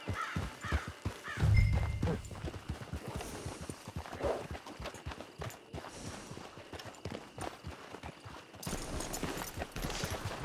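Rhythmic hoofbeats of a horse in the video game Red Dead Online clip-clopping steadily at a moderate pace, with a low rumble near the start and some rustling ambience throughout.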